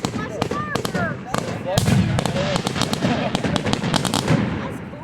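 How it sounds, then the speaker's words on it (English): Fireworks burst outdoors in a rapid series of sharp pops and crackling bangs, some close and loud, others more distant, with excited voices talking and exclaiming throughout. "They're getting lots of fireworks."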